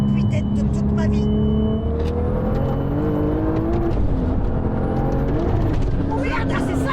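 A 1200 hp Golf R32 accelerating hard with all four wheels spinning, its engine droning loud and rising in pitch inside the cabin while occupants talk and exclaim over it.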